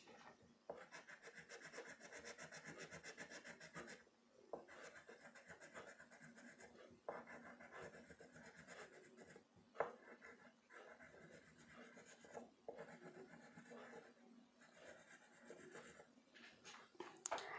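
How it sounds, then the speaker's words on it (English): A dark green crayon rubs back and forth across paper in quiet, repeated scratchy strokes with short pauses between bursts, close and faint. "Now we will use a dark green crayon."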